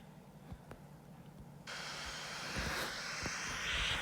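An airplane engine in a flight simulator game after landing, starting faintly and then switching abruptly to a louder steady broadband roar that builds slightly and continues without talk.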